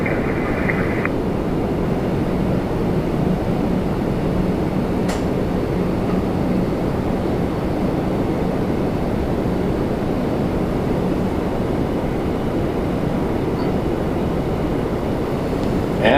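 A Boeing 737 Max 8 arriving from Punta Cana at Toronto Pearson gives a steady, loud, broadband jet roar that holds evenly throughout, with no talk.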